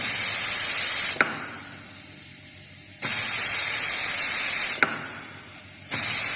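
Compressed air at 3 to 5 bar hisses through the valves of a pneumatic control trainer in loud bursts, each ending in a sharp click, separated by quieter pauses.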